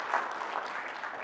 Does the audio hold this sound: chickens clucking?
no